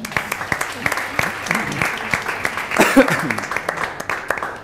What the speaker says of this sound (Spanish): Entonces, bueno, pues un aplauso para Virgil.